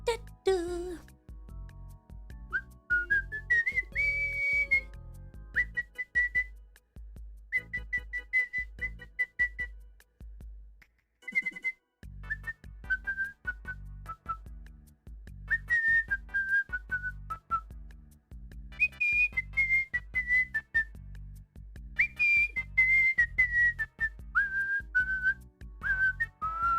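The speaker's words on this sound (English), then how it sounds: "Every time I hear this song, I have to whistle it." A person whistles a song over a steady beat, clear sustained melodic notes and runs coming in phrases for nearly half a minute, prominent and close with a brief pause midway.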